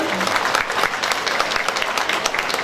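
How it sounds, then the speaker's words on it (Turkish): Audience applause fills a hall at a village association's 11th anniversary celebration, a dense continuous roar of many hands clapping at steady volume from start to finish, with faint voices mixed in. "bu emekler için koca bir alkış rica ediyorum salondan."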